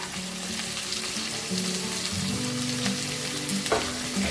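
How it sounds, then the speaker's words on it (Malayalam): Onions and garlic fry in hot coconut oil with a steady, dense sizzle close up, a constant crackle with a few sharper pops and no talking. "വെളിച്ചെണ്ണയൊക്കെ ചൂടായിട്ടുണ്ട് ഞാനിവിടെ ഒരു രണ്ട് സവാള ഇട്ട് കൊടുക്കുന്നുണ്ട് ഇതിനകത്തേക്ക്"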